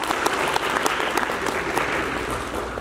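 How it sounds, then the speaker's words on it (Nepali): Sustained congregation applause at a Nepali church sermon, a dense, steady wash of many hands clapping close by for about three seconds. "परमेश्वरलाई ताली बजाएर धन्यवाद दिनुहोस्"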